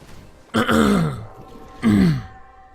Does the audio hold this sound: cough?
yes